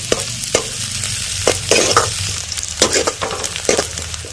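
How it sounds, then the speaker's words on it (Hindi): Onions frying in a kadhai for dal tadka while a spoon stirs them, crackling sizzle with repeated spoon scrapes and taps every half second or so, close and fairly loud, with no voices. "हम चम्मच से चला लेते हैं, यानी कि अच्छे से पका लेते हैं, प्याज की फ्राई कर लेते हैं।"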